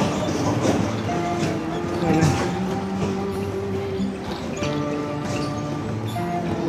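A baby train ride at an amusement park in Dhaka gives a steady rolling rumble with humming tones and busy crowd noise throughout.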